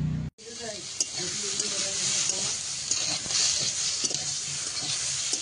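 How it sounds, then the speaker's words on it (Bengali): Pointed gourd and potato pieces dropped into hot oil in a wok, followed by a loud, steady close-up sizzle with occasional stirring scrapes and spits. "কড়াইতে আবারও তেল দিয়ে দিয়েছি। এবার দিয়ে দেবো পটল আলুটা।"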